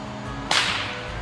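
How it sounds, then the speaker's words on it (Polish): A man cracks a whip outdoors at an encampment in the old town of Stargard, Pomerania, making a single loud crack followed by a short fading tail against a steady background hum. "Gościu strzela z bata."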